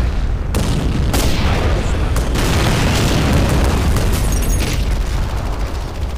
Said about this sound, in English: Huge land mattress coming in